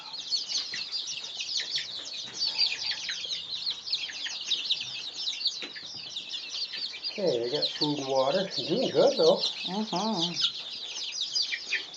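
Chickens and a rooster cluck and chirp steadily in a coop, a busy nearby flock that continues throughout, with a person talking over the birds toward the end.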